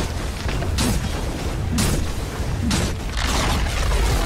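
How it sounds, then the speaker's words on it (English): A tower crumbling under attack in Dota 2, heard as three loud booming crashes about a second apart over a steady game backdrop, each with a bright burst of debris noise. "Radiant's top tower has fallen."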